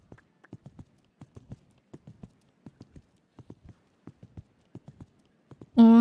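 A horse's hooves clip-clop at a steady, even gait while being ridden in Equestrian The Game, a crisp, close series of rhythmic thuds, ending with a loud tonal game sound.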